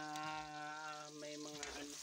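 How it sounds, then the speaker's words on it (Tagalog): Ingredients sautéing in a hot pan at night, a continuous soft sizzle heard up close with a voice running over it. "Nagluluto tayo ngayon. Ginigisa ko na yung ano."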